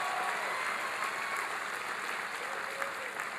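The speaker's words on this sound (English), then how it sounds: "Give Barbara a big round of applause." A town hall audience in Green Bay applauding, dense steady clapping from a large crowd, heard fairly distant and sustained throughout.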